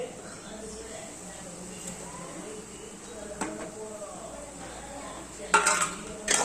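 Kothu chapati with chicken 65 powder, garam masala, Kashmiri chilli powder and salt is stirred in a pan, with metal spatula scrapes and clinks over a faint sizzle, and a voice talking throughout.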